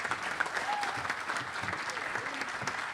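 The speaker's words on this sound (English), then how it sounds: "So give yourselves a round of applause for that." Crowd applause at a Girard College 2021 commencement, a steady, fairly soft patter of many hands heard from some distance, with faint murmuring voices mixed in.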